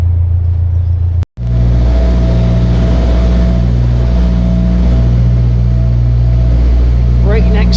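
A narrowboat's engine runs steadily at 2,000 RPM on the River Calder, a loud, close, constant low drone with a brief dropout near the start and a voice speaking over it.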